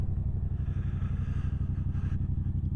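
A motorcycle slows as it pulls in to stop at a convenience store, its engine a low, steady, throbbing rumble close by, with no talking.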